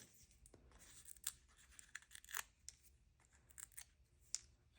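Paper strips are peeled and torn away while making a card, a string of soft, quiet ripping and crinkling sounds in irregular bursts close by.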